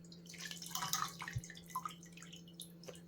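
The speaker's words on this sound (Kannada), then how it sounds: "ಇದರಲ್ಲಿ ನೀರಿನ ಅಂಶ ಎಲ್ಲ ತೆಕ್ಕೊಬಿಡ್ತೀನಿ ನಾನೀಗ" Soaked soya chunks squeezed by hand, the wrung-out water falling in irregular drips and small trickles, close and fairly quiet, busier early on and thinning to a few last drops.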